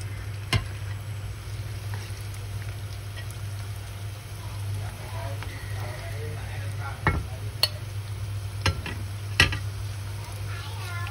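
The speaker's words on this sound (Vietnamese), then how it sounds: "Đó, một chảo như vậy mình chiên khoảng tầm được từ 5 đến 6 cái." Vegetarian mushroom patties fry in oil in a pan on an electric stove, giving a steady, soft sizzle with a constant low hum beneath and a few sharp utensil clinks against the pan.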